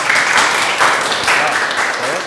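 Students in a classroom clap together in brief rhythmic bursts, loud and close, with voices mixed in over the clapping.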